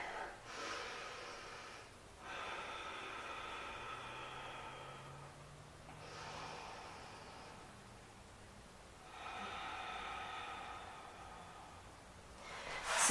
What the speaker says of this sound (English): another couple full deep breaths in and out through the nose, so nice ujjayi breath